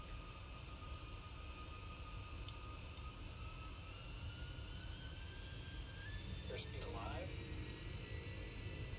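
Simulated PMDG 747 jet engines spooling up on a takeoff roll in Prepar3D, a steady broadband roar with a slowly rising whine, while cockpit voices talk over it.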